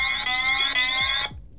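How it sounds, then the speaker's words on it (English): Loud electronic anti-theft alarm from a security app on a MacBook, a steady high-pitched warbling tone that cuts off abruptly near the end. "So if I now close my MacBook or take it away, it will sound an alarm"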